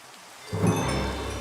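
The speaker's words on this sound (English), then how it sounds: "Get rid of the rain." Rain and a rumble of thunder in a Minecraft modpack: a steady wash of rain suddenly swells into a deep, loud roll with no talking.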